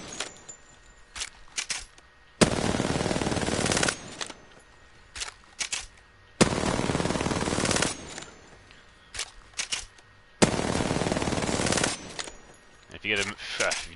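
Bursts of rapid automatic gunfire aimed at targets in a video game, with three long sustained sprays of about one and a half seconds each, separated by shorter clicks and scattered single shots.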